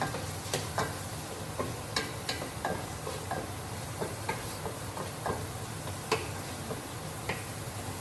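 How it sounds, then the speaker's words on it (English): Onion sautéing in grease for a curry with goat, beef and chicken, a continuous close sizzle with scattered light ticks and occasional utensil scrapes, no talk. "Just saute onion, y'all. Grease and onion."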